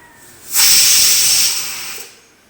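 A single loud burst of hissing steam lasting under two seconds, rising sharply and tapering off, a pressure cooker cooking lentils letting off its whistle.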